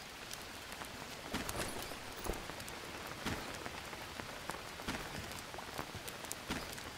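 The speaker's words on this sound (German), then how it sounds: "Regnet auch schon wieder die ganze Zeit" Steady rain falls in the jungle survival game Green Hell, a soft continuous patter on surfaces with occasional louder drops, quiet and with no talking.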